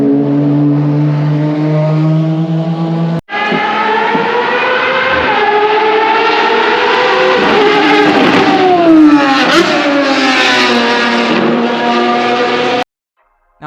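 Ferrari FXX race car on a track day, its high-revving engine screaming loud and close with a steady tone, then climbing and dropping through gear changes after a brief cut, before ending abruptly.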